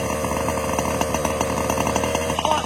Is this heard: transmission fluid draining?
no